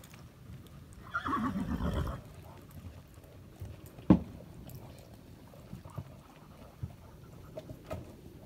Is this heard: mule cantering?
yes